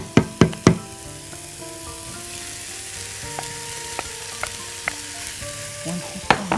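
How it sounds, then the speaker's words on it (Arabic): Chicken goes into a pan of frying filling, and a steady close sizzle follows, with a few sharp knocks at the start and near the end. "هنحط عليها بس الفراخ. نجيب بقى الفراخ اللي عندنا"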